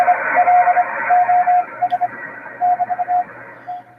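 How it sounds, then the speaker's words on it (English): Narrow, steady Morse code CW tone on a ham radio receiver, keyed in short and long bursts at an uneven rhythm, sitting over a constant hiss of static and background noise. "there's some Morse code"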